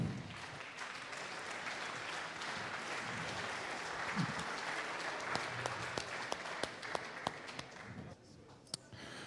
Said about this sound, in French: Bonne main d'applaudissement quand même pour Manuel Justin Félix du Collège Maisonne